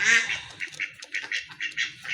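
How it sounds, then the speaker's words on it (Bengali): A lively pair of regional Mayna Jak pigeons calls in a quick series of short, nasal bursts, close up and alone. "খুবই তেজি অ্যাক্টিভ কবুতর এই যে দেখেন ডাকতেছে কিন্তু অলরেডি"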